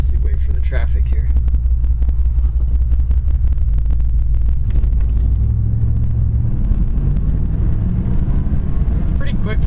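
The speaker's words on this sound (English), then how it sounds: "It's pretty quick for a big car." A 1990 Cadillac Brougham's 350 5.7 engine rumbles loudly and close by, its low roar rising in pitch as the car accelerates away.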